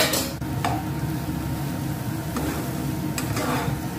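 A utensil scraping and stirring spice masala together with nuts in a pan, for a Bengali potol dorma, with steady scraping texture and a few sharper clinks against the metal, close and continuous without talk.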